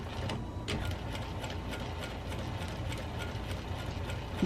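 Sewing machine stitching fabric, a continuous rapid mechanical chatter with an even clicking rhythm, close and fairly quiet, running on its own with no voices.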